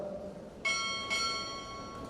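A ship's bell sounds a pair of crisp strikes during a Navy chief pinning ceremony, the second following about half a second after the first, both ringing on and gradually fading against low background murmur.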